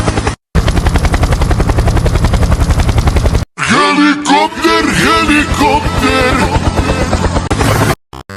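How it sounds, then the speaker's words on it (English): A loud helicopter sound effect opens with fast, rhythmic rotor chopping for about three seconds. After a short break, warbling, sing-song voices carry on over a continuing mechanical drone. "Helicopter, helicopter!"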